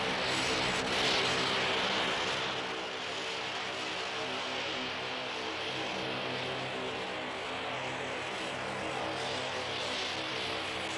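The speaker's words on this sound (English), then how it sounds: "an invaluable fleet of Sky Van transporters" A Sky Van propeller transport aircraft drones steadily, a continuous broad engine roar with a slight swell near the start, heard alone without voices.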